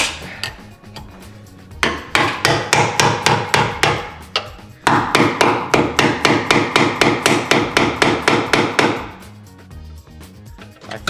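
Repeated heavy hammer blows knocking bolts out of a crashed BMW M5, two steady runs of sharp metallic strikes at a quick even rhythm, close and loud, with a short pause between bursts and no talking.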